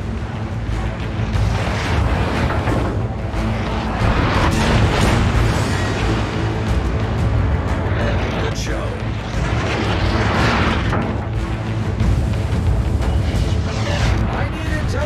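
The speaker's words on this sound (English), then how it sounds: "Enemy battleship destroyed." A battleship exploding in a naval battle game: sustained loud rumbling booms and blasts over a dense roar, with a voice speaking over the din.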